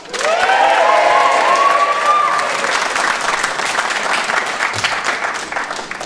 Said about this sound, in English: this needs to be a bigger cheer, a really huge cheer